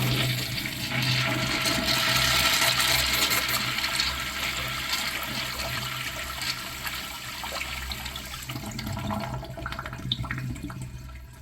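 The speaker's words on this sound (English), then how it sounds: "Let's have a look at a flush." An Eljer Bedford third-generation urinal flushes with a loud rush of water that gradually tapers into a slow trickle and gurgle as it drains.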